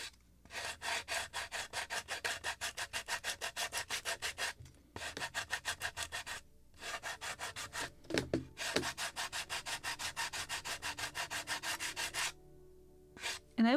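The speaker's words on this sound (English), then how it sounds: "I need to add slight sanding here" Rhythmic back-and-forth sanding strokes on the wooden hull of a model lobster smack boat kit, close and steady, in several bursts separated by short pauses.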